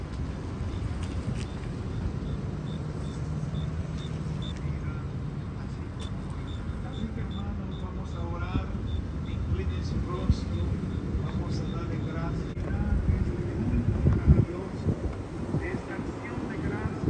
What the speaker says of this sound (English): traffic picks up.